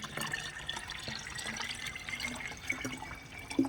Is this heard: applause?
no